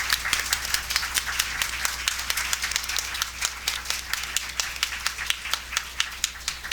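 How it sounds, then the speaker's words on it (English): A crowd applauds steadily, many hands clapping in a dense, even patter that carries on without a break, moderately distant and not very loud. "Let us give another round of applause to the director and the star."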